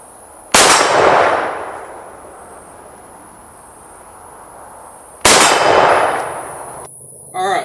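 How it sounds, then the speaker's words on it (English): Two rifle shots hit a steel plate, fired at a target with a Swampfox Kingslayer optic mounted. Each shot lands as a sharp loud crack with a ringing metallic clang that decays over several seconds, and the shots are spaced about five seconds apart. "That hit the steel plate. First shot."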